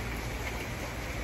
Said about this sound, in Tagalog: itong patak ng ulan